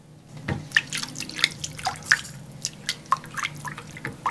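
Half a cup of water goes into a cheese sauce base of melted margarine and flour, heard as a close run of quick, light splashy drips and trickles at an uneven pace.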